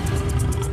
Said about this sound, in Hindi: ये बाघ तो दौड़ता हुआ हमारी तरफ ही आ रहा है।